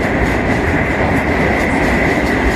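A passenger train led by an EP09 electric locomotive, with a first-class car and a bar car, rolls past on a platform track at Wrocław main station, a loud steady rumble with rhythmic wheel clatter.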